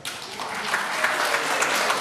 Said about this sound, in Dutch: Applaus voor de promotie van Snit.